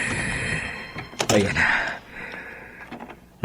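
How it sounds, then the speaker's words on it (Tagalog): Someone forces open the back door of a house: a heavy thunk and a rattling crash in the middle, with breathy effort sounds and a faint tonal hum underneath. "Nasira ko ng pinto sa likod ng bahay"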